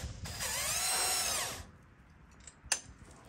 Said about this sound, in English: So just gonna impact it off to 14 mil.